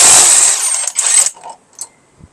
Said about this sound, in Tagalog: Reverse lang natin yung impact wrench natin.